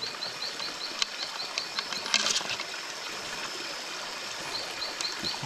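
Forest stream water trickles and splashes steadily while crabs are rinsed in it, a close, continuous wash of flowing water with birds calling faintly in the background.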